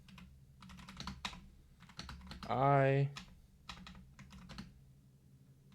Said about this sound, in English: my typing skills are horrible